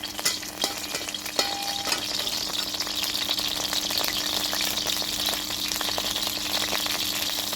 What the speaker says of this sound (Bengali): দুটো তেজপাতা দিয়ে দিলাম